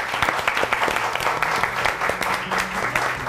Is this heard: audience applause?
yes